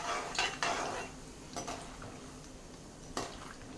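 A spoon stirring peanuts, mustard seeds and cumin in hot oil in a pan, a few close scraping clinks against the metal over a steady faint sizzle, with no talking.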